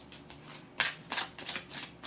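A deck of tarot cards is shuffled in several quick, crisp riffling bursts, close and fairly quiet, with no talk.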